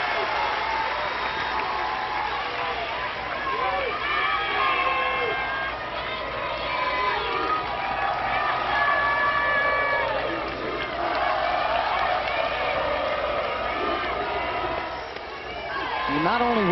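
Record-breaking crowd at Hall of Fame Stadium during an Oklahoma versus Florida State softball game, a sustained wash of cheering, clapping and whoops, loud and continuous with a brief dip near the end.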